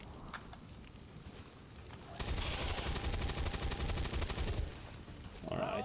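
Sustained ballistic automatic gunfire from the video game XCOM 2 fills the middle stretch as a dense rattling burst, with quieter game ambience before and a short tonal effect at the end.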